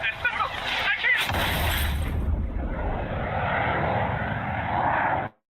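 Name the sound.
aircraft engine in the video game Ace Combat 7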